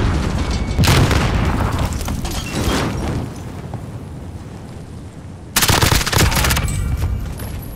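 Gunfire in a squad-based shooter video game, loud close bursts of heavy rapid fire and booming impacts, a sustained volley, a quieter stretch, then another sharp loud burst.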